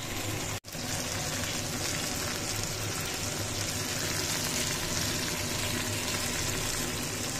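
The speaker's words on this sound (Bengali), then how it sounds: "মাছটা ভাজা হচ্ছে" Fish frying in a pan for a home-cooked fish curry, giving a steady, dense sizzle that holds at an even level throughout. There is one brief dropout near the start, and no voices.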